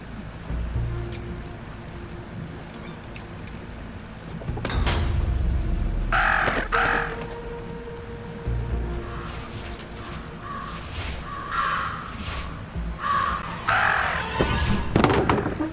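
Several crows caw in short bursts over a steady rain-like ambience in the video game Jenny LeClue, with an abrupt swell of noise midway and the calls repeating irregularly toward the end.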